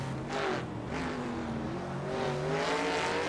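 A Camaro Trans Am race car in Assetto Corsa, racing at Winton: a loud, deep V8 engine note holding high revs with shifting pitch as it accelerates, heard alone and close.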